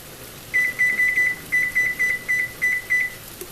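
Kitchen timer beeping as it is set, about twelve short, loud, high-pitched electronic beeps in quick bursts with small gaps, alone in a quiet room.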